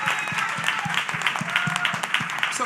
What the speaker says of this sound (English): I'm going to see if I can say something to get 30 of y'all to clap only if you agree.